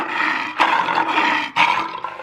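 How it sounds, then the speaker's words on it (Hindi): A lion roars loud and close in a cartoon story, a continuous rumbling growl with two brief breaks. "आवाज से तो लगता है कि कोई शेर मेरी ही ओर बढ़ता चला आ रहा है।"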